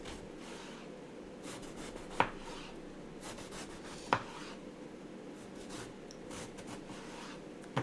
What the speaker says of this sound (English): And then I'm going to cut it into cubes.